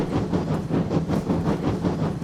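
A train rolls steadily along railway track, its wheels beating a rhythmic clickety-clack close by, the sound loud and continuous.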